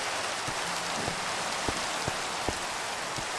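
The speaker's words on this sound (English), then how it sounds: "Oh, and it's raining, because it knows I don't have the roof done yet." Steady rain falls continuously in the Minecraft video game while the roof of a half-built house is still open, a soft even hiss broken by a few faint drip ticks, with no voices.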